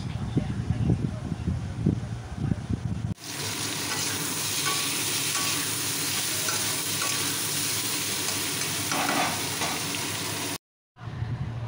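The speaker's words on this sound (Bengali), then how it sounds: "ঝিঙে আলুটা ভাজা হয়ে গেছে" Ridge gourd and potato frying in a pan, a steady close sizzle after a few seconds of clattering and stirring scrapes, with a brief cut near the end.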